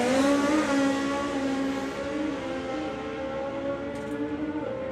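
A drag racing car screams down the track at a Summer Nationals event, its sustained high-pitched engine note holding steady and loud from start to finish, with no voices.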